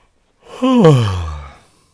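A single drawn-out yawn, rising then falling in pitch and trailing off into a breathy exhale, close and alone.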